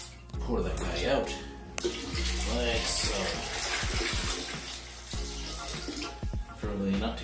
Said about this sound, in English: you gonna take it to the toilet, take the cap off and pour it out